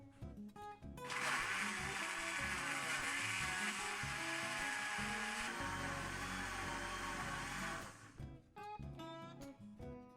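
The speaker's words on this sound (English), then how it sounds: "And then you put your blender on, a blender jug." A blender grinding garlic and ginger into paste whirs loudly and steadily for about seven seconds, its motor pitch dropping near the end before it cuts off, with quieter clatter before and after.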